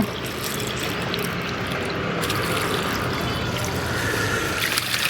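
Water poured onto parched, dried-out plants in a garden, a continuous close splashing and trickling wash that runs steadily for several seconds with no talking.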